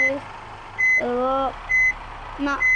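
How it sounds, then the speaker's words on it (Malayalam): A truck turns slowly while its reversing alarm sounds, a series of loud, evenly spaced beeps repeating over a low engine rumble. "വണ്ടി കഷ്ടപ്പെട്ട് തിരിഞ്ഞോണ്ടിരിക്കുകയാണ്"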